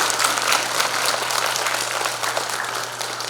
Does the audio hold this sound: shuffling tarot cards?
no